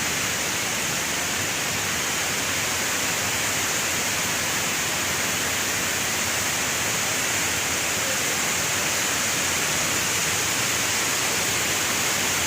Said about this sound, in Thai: เดินมาใกล้ๆหน้าน้ำตกนะครับ